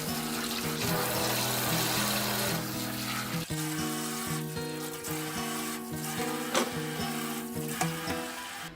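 Steady stream of water from a kitchen faucet rinsing a sink, a continuous close hiss and splash with faint tonal resonances underneath and occasional small knocks, no talk.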